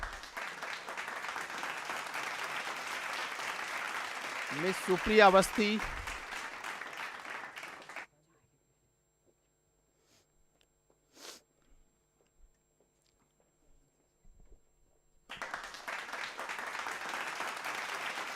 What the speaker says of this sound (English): please have a big round of applause for everyone.